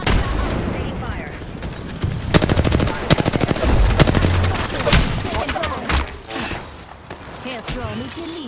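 Video game gunfire crackles in rapid automatic bursts and single cracks, loud and close, with a stretch of dense machine-gun rattle in the middle and voices audible amid the shots.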